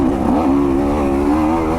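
A dirt bike motorcycle engine drones steadily on a trail, holding a close, continuous tone with slight pitch wavering as the rider flows between second and third gear.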